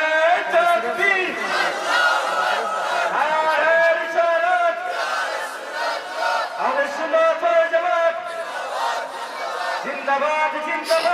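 A crowd at an Islamic religious gathering shouts a takbir chant in unison, a loud, dense mass of voices in repeated rising calls that fill the whole stretch with barely any pause.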